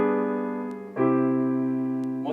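A sustained chord with a flat ninth, held as a smooth tone whose voicing shifts partway through to a new, slightly louder harmony, with no talking.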